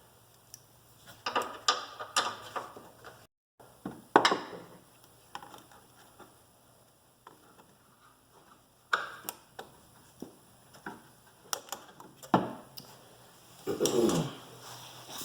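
Hand work on a hose clamp of an electric power steering pump under rebuild, heard as scattered small metallic ticks, clicks and scrapes up close, some in quick bursts and a louder rustling handling noise toward the end, with no talk.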